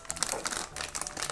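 A small plastic packet from a toy set being opened, brisk close crinkling and rustling throughout a brief moment.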